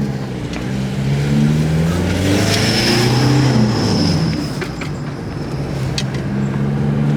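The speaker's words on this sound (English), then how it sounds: "I have to like rev it to get it going" A car carrying several passengers revs its engine hard to get moving, giving a loud, steady, close drone whose pitch rises and falls for several seconds.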